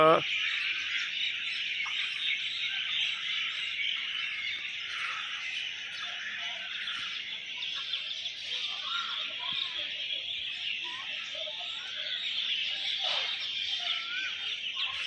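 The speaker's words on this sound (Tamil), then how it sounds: "இது பாருங்க, குயில், காகம் எல்லாம் சவுண்டு கேட்டுட்டு இருக்கா" Birds calling around the Tiruchendur Murugan temple, with a crowd of calls that fits cuckoo, crow, rooster and sparrow, a dense steady chorus of chirps and caws running throughout, moderately loud, with no talking.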